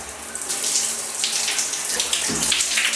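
Tap water runs steadily into a sink while a face gel is rinsed, a close, full splashing stream that shifts briefly partway through.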